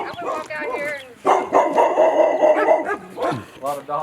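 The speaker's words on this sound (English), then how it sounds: "A lot of dogs, huh?" Several dogs bark and yip repeatedly outside a house, loud and close, with some whimpering mixed in, while people talk over the barking.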